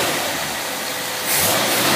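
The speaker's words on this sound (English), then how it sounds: "take it out of gear and we'll give him a free rev." A carbureted engine free revs out of gear on a test dyno, a steady broadband roar that swells louder in the last stretch as the throttle opens.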